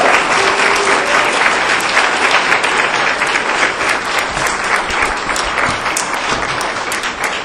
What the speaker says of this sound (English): We want to give them a round of applause for being the amazing students that they are.